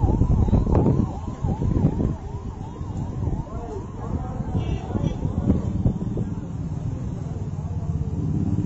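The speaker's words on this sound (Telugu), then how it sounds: "Ambulance వదిలేరు, ambulance పంపమన్నారు." An ambulance siren wails in repeated rising and falling sweeps as police let it through a crowded roadside scene, fairly near at first and then fading under general street noise and murmuring voices.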